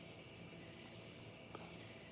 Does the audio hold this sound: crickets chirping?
yes